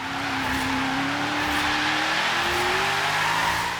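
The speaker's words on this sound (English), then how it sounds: "This car's just so much fun to drive." A Ford Falcon XR8 drift build slides downhill in Forza Horizon 3, its engine holding a steady rising drone under continuous tire squeal, loud and close throughout.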